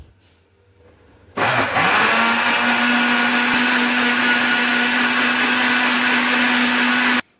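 A blender making homemade mayonnaise starts abruptly after a quiet moment and runs loud and steady with a high motor whine as oil is added gradually, then cuts off near the end.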